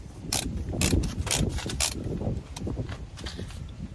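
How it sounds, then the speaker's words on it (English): A torque wrench is loosened after tightening bolts while a steering stabilizer is installed on a Jeep JK, giving close, irregular ratcheting clicks and mechanical rattles over about four seconds. "I always loosen back up the torque wrench."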